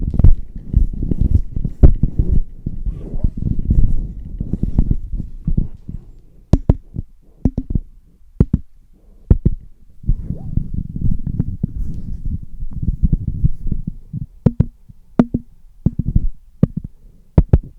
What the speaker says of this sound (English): the handling noise rejection test, where I'm passing the microphone back and forth and tapping on the body